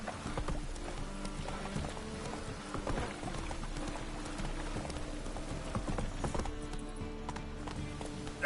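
Roach the horse gallops in The Witcher 3, hooves clip-clopping in a quick, steady rhythm over a busy game soundscape, continuous and fairly close.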